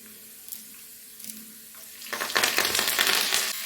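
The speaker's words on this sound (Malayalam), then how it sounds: "അതിനകത്തേക്ക് നമുക്ക് കറിവേപ്പില ഇട്ട് കൊടുക്കാം." Curry leaves drop into hot oil with browned garlic for a fenugreek pickle. A quiet hiss with a few light taps swells suddenly into a loud, bright, crackling sizzle that carries on to the end.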